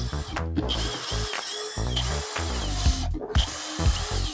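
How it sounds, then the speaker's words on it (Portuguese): A power drill drives 50 mm screws to fix the lower cam of a sliding door track system, loud bursts of whirring and ratcheting that start and stop close by. "Primeiro eu vou fixar o came inferior usando parafusos de 50 milímetros."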